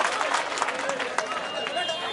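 At an outdoor political rally in Aurangabad, a large crowd claps in a dense, steady patter. The clapping stays fairly even and somewhat distant throughout the short stretch, with murmuring voices mixed in.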